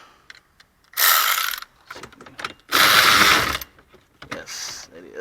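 Ratchet clicking as it turns an 8mm bolt on a Ford F150 blend door actuator, in two loud bursts of rapid clicks with a shorter burst at the end and quiet pauses between.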